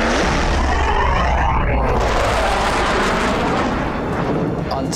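Military jets fly low overhead with a loud, roaring rush. The roar sweeps down in pitch as they pass, and heavy boom-like blasts sound beneath it.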